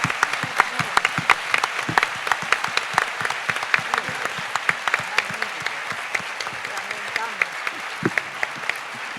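An audience claps steadily after a talk given in Spanish. The applause stays dense and even from start to finish, with individual claps standing out here and there.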